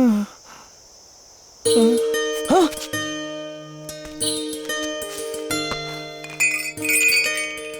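Bright, ringing neck bell tones chime repeatedly, overlapping with sustained musical notes and a brief voice-like sweep early on.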